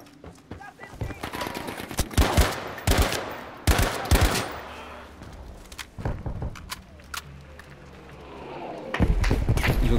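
Battlefield V combat in 1944 Provence: bursts of machine-gun and rifle fire crack close by in rapid clusters, with thuds and booms between volleys, while someone talks over the shooting.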